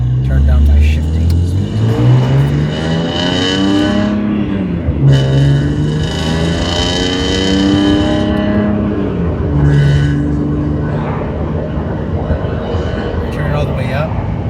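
BMW E46 M3 wagon with S54 engine, Euro header and SMG gearbox accelerating hard, engine pitch climbing and dropping through several gear changes, loud and close, with a voice talking intermittently over it.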